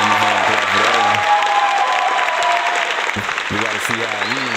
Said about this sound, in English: Gotta give him a hand clap for that one.